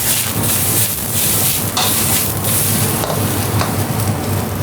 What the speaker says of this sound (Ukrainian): Час від часу їх помішую, ми їх будемо обсмажувати до золотистої скоринки.